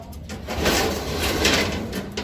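Soft coos from racing pigeons swell and fade twice, close by, with light rustling and a faint bump in the background.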